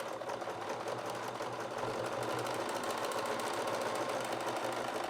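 Sewing machine stitching a heavy seam through thick layers of denim at a jeans pocket, running steadily and close for the whole stretch without a pause.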